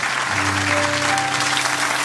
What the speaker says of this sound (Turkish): Sizin alkışlayalım önce aynen.